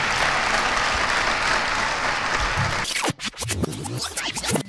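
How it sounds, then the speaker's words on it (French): Loud sustained audience applause at a televised Benin Top 10 music awards ceremony, cutting off abruptly partway through and giving way to scattered quieter sounds. "Je vous demande de les applaudir très,"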